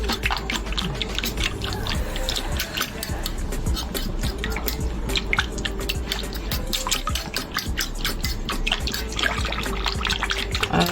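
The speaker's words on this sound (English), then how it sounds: "we are mixing in our can of cream of mushroom" A spoon stirs canned cream of mushroom soup into a mix for potatoes, giving thick wet squelches and clicks of utensil on bowl in a close, steady, busy rhythm.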